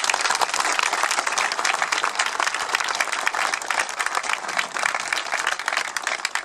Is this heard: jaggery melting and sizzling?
no